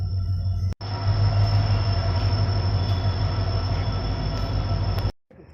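A train at platform 1 of a railway station rumbles loudly and continuously with squealing wheels, close by, before abruptly cutting off.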